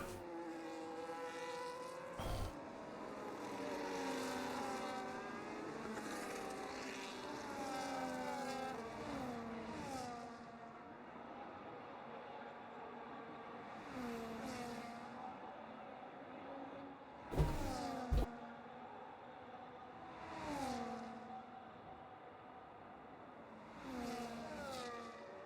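Formula 1 race cars in a video game scream down the start-finish straight, engine notes rising and falling in repeated passes, with a couple of sharp bursts midway.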